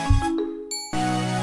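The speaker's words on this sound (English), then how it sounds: "Gotta get the yeet bell in there." A single bright ding-dong chime rings out, a struck bell tone with a short shimmer that cuts off, then rings again, loud and close with no talk.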